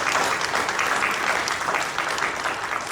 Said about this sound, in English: Yes, I think that deserves a round of applause.